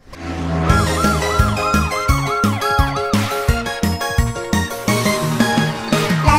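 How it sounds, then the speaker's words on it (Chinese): A cartoon fire truck siren wails in repeated rising and falling sweeps over bouncy children's song music with a steady beat. It fades in and plays continuously throughout. "来啦来啦，消防车来啦，大家请让开，它跑得快。"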